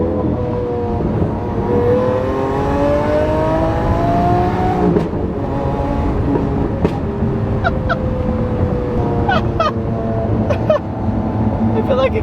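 A Lamborghini Aventador S engine revs and pulls loudly and up close, its rising and falling pitch sweeping through gear changes, with a few sharp blips near the end and a voice speaking over it.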